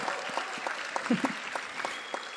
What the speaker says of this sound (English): Give them a round of applause for their dedication.